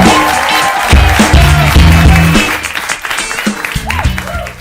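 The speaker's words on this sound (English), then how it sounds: "Let's keep this applause going, everybody, for your third roaster" Audience applause at a comedy roast event, dense clapping heard near and loud and mixed with a voice over a sound system, then thinning out toward the end.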